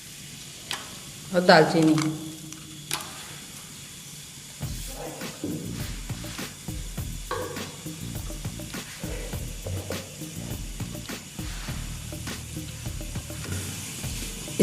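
Bay leaf and cinnamon sizzling in hot mustard oil in a pan, a sharp hiss bursting up as they drop in, then a steady frying crackle with stirring scrapes under a woman's speech.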